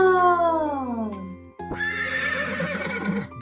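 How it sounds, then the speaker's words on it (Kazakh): A horse whinnies loudly and close, its neigh sliding down in pitch, followed by a second rougher, shaky neigh. "Иә, бұл жылқы!"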